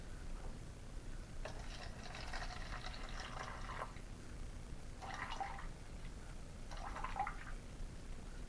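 Water poured into a dry red cup in a classroom mole lab, arriving in a few short splashing, trickling bursts separated by pauses over a steady low background hum.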